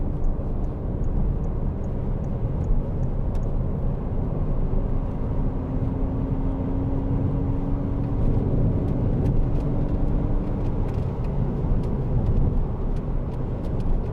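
A 2012 Citroën DS3 1.6 e-HDi diesel hatchback pulls away and accelerates under a gentle throttle, giving a steady low engine drone and road rumble heard from inside the cabin, with no speech.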